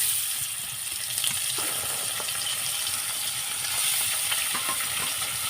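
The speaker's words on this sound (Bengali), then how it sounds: "তেল দিয়ে কেমন দেখো ধোঁয়া উঠছে। আর এখন সব মাছগুলো আমি একটা একটা করে দিয়ে দেবো।" Fish pieces frying in smoking-hot oil make a dense, constant sizzle with scattered pops and crackles, close and fairly loud, with no talking.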